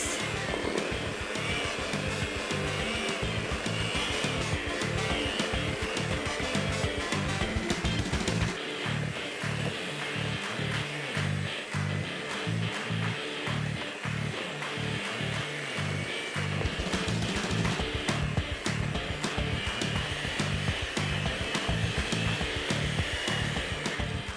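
Electric hand mixer whirring steadily through cupcake batter for a coconut cupcake recipe, a loud continuous motor drone with rhythmic pulsing as the beaters churn, running throughout without pause.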